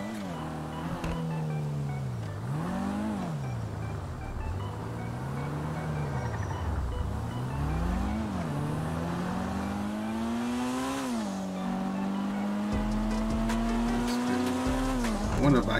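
A Lamborghini in GTA V with a graphics mod, its engine rising and falling through repeated revs and gear changes with some tire squeal, steady and moderately loud.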